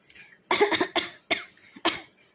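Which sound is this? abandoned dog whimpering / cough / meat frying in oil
cough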